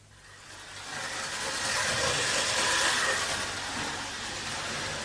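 Model trains run in a radio drama scene, a steady hissing rumble that swells and holds at a fairly even level, with no voices over it.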